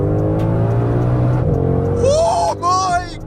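A Ford Mustang Shelby GT500 engine drones steadily, then revs hard in two rising bursts near the end, loud and close, over a low background hum.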